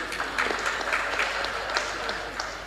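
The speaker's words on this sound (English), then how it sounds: "Some people at the back are not clapping." A conference panel audience applauds, a dense wash of clapping from many hands that holds steady and fairly loud throughout the short stretch, with no clear speech.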